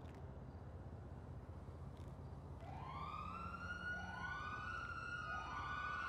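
Emergency sirens wail in a role-play video game, rising and sweeping in overlapping tones over a low engine-like hum, several sirens layering in partway through, faint overall with no talking.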